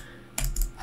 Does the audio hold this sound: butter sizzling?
no